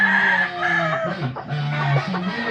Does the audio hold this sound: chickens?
yes